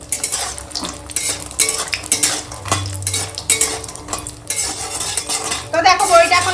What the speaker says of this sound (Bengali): ওই ঠান্ডা তেলে বড়িটা দিয়ে নাড়বো